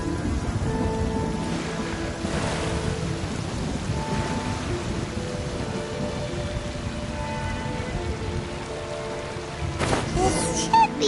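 Steady rain in the Genshin Impact game world, a dense continuous patter with low rumbles, with a louder crackling burst of thunder near the end.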